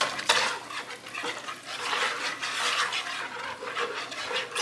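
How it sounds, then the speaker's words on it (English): Homemade bread dough being stirred by hand in a bowl, a steady continuous scraping and rubbing with faint clinks, close and moderately loud, no talking. "So I'm just gonna stir."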